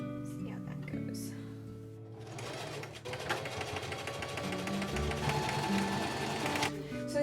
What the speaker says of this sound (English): hem up the bottom with the sewing machine